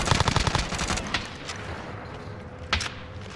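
In Call of Duty Warzone, a fast burst of close automatic gunfire opens loud, then breaks into scattered single shots and a sharp crack further on, over a background of battle noise.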